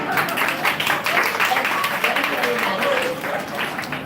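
Workshop participants in a classroom management session clapping, a steady crowd of hand claps running throughout, with a voice talking over the applause.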